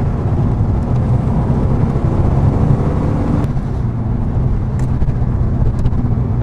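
A Porsche 968 CS driving at speed, a steady, loud low engine drone with road and wind rush that eases slightly partway through, heard from inside with no talk.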